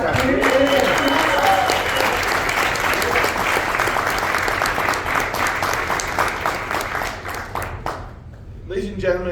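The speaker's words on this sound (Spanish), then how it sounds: "Everyone, let's hear it for Peter" Sustained audience applause at a science symposium, loud dense clapping that slowly thins out and stops near the end, followed by a voice starting to speak.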